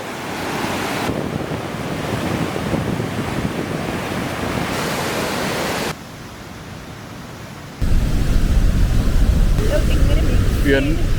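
Rushing river water at Huka Falls, New Zealand: a dense, steady roar of churning water with wind buffeting the microphone, cutting abruptly between louder and quieter stretches, close and continuous.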